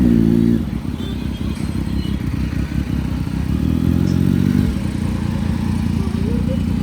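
A Kawasaki ZX10R inline-four superbike idles close by with a smooth, steady low rumble and a few light throttle variations, as voices talk faintly in the background.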